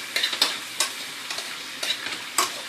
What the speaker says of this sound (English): We're going to add our diced onion. And we're going to cook it down until it becomes translucent.